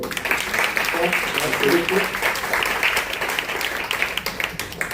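A church congregation applauds and cheers in praise, with continuous, full clapping and voices rising throughout.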